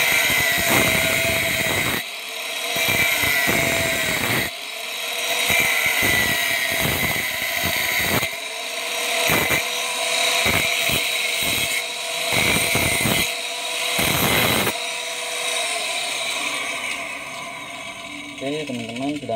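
An angle grinder cuts metal for a 2-inch swing-type hydram pump waste valve, a loud whining grind that starts and stops in repeated bursts with short pauses between cuts.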